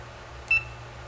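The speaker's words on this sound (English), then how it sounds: "Sorry, it was the phone." A short electronic beep from a phone sounds once, clear and fairly loud over a steady low room hum in a quiet indoor setting.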